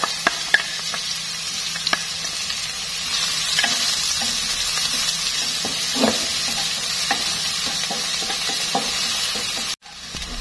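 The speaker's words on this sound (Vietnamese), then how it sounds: "Mình cho một ít dầu ăn vào chảo, cho hành tím băm với đầu hành vào, phi cho thơm nha." Minced shallots and onion sizzle steadily in oil in a non-stick pan, a continuous close frying hiss with occasional light scrapes of a stirring utensil; no talking.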